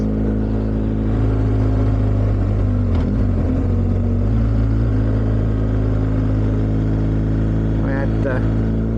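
A BMW-style boxer-twin motorcycle engine of 1200 or 1250 size runs steadily on a ride through the Picos mountains, a loud continuous low drone with slight pitch shifts and a brief rev near the end.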